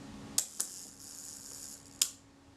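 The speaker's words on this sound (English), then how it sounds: "If we release the shutter it should run down." Shutter of a Kodak Retinette type 022 camera under servicing, released with a sharp metallic click, a second click just after, then a third crisp snap as it runs down, close-up and quiet otherwise.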